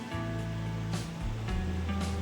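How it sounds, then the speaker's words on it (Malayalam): Boiled spaghetti noodles and their cooking water are poured into a strainer in a home kitchen, giving a steady, loud rushing gush of water throughout, with a low hum underneath. "ഇതൊരു സ്ട്രൈനറിലേക്ക് ഒഴിച്ചു കൊടുക്കുക."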